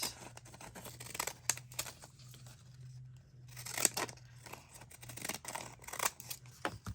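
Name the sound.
scissors cutting paper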